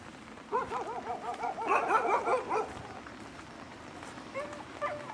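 A dog outside a house in Chanthaburi barks in quick repeated bursts, fairly close, with yips and a whimpering edge, quieting toward the end before a couple of final short barks.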